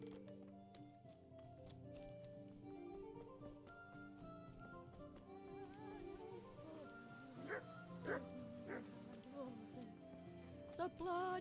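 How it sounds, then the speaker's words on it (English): A dog in the video game Kingdom Come: Deliverance yelps and barks in short bursts toward the end, mixed into game ambience and music, with people talking over it. "It's my dog."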